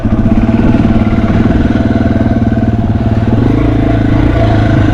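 Yamaha TW 200 motorcycle on a dry, rough off-road single track, its engine chugging loud and close in a steady low rumble with clattering mechanical texture and no talk.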